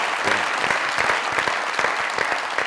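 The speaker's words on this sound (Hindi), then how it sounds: "तालियां उनके लिए।" Sustained audience applause in a comedy talk-show studio, dense even clapping from a large crowd throughout, close and loud with no voices over it.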